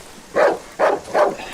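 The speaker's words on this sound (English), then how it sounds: "That dog's close. Where are you, mutt?" Three loud, close dog barks from the horror game Darkwood, evenly spaced in quick succession, with a low ambient background and no voices.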